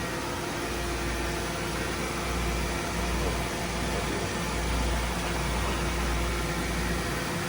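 A 2010 Mazak Nexus 510C-II CNC vertical machining center runs its spindle at 2,500 RPM, giving a steady, even mechanical hum and broadband whir that holds constant throughout, with no talking.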